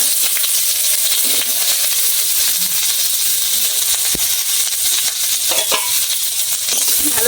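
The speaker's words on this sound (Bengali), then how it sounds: "এবার শাপলাগুলো দিয়ে দিচ্ছি।" Water lily stems hitting hot oil with white mustard seeds in a pan, giving a steady close sizzle and hiss throughout with occasional stirring clinks.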